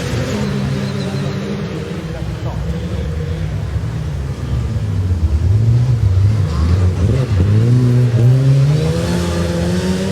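Race cars launching off the start line in a Race of Champions heat, engines rising in pitch as they accelerate side by side, loud and sustained with a commentator talking over them.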